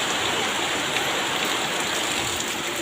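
Steady rain pours down outdoors in a dense, even hiss that holds at a constant level throughout, with no voices.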